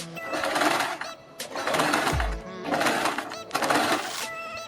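A sewing machine stitches along a neckline beside the buckram edge in four short bursts of fast needle chatter, separated by brief pauses, loud and close.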